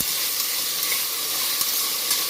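Potatoes fry in a pan with mint, giving a continuous bright sizzling hiss of oil and steam, close and even throughout, with no talking.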